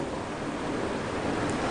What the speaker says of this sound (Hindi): बहुत ज़्यादा पानी यहाँ पर चल रहा है